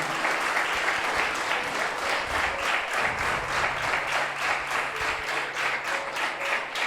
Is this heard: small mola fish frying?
no